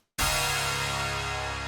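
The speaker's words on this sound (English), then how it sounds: "So we got that kind of dark bass sound already." Dark trap bass note layered an octave higher, a single loud sustained tone entering after a brief silence and holding steady to the end, alone with no talk.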